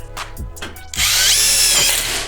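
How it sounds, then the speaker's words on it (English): A power drill drives screws into metal stud framing, a few short bursts followed by a long, loud, sustained whine up close, with no talking. "drive our screws"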